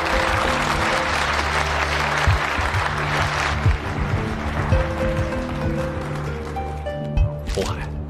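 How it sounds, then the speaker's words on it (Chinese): Wedding guests break into sustained applause for the groom, a continuous crowd clapping under a bed of music, with a voice rising over it near the end. "我们再一次响起热烈的掌声，为我们的新郎加油喝彩"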